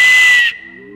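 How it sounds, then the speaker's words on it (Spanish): A triple clay whistle sounds a loud, bright, steady tone with breathy hiss, then cuts off abruptly halfway as fainter lower tones linger. "juntando un tercer silbato, vamos a obtener un silbato triple que nos va a generar este tipo de sonido"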